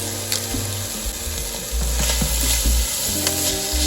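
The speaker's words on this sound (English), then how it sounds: "Stir it all up." Bok choy and mince stir fry sizzling loudly in a hot pan, with bursts of scraping and stirring over a steady frying hiss.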